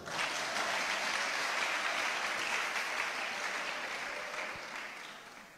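A church congregation claps steadily in a dense wash of applause that holds loud for several seconds and then slowly fades.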